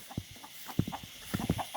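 Several short, soft clucking calls come in scattered bursts, fairly close, with faint background noise and no talking.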